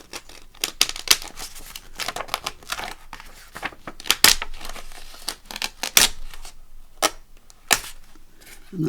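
A page is torn out of a sewn book, the paper giving sharp crinkling rips and snapping bursts in short irregular pulls, close and fairly loud, with no talking.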